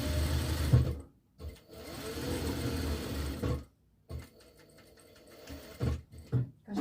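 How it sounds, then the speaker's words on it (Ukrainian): A sewing machine hems the bottom of a blouse in several loud, close bursts of rapid stitching, separated by brief pauses and short stops and starts, with no voices. "ось я вже підшиваю низ"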